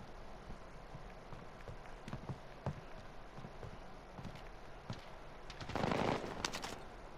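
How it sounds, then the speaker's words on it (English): Distant gunfire in Call of Duty Warzone: scattered faint cracks and short bursts spread across a steady game background, with a louder, denser burst of shots near the end. "Oh, I got gunfire."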